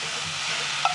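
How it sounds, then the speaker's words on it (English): Mushrooms and onions sizzling on an outdoor grill, a brief steady hiss heard close up with a small pop near the end, no voices. "get these mushrooms and onions going here."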